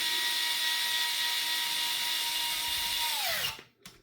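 A power drill runs steadily and loudly while driving screws into a car's front end during assembly, whining at an even pitch for about three and a half seconds before spinning down and stopping.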